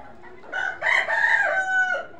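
A Salem rooster crows once, loud and close, a single drawn-out call rising and then trailing off over about a second and a half.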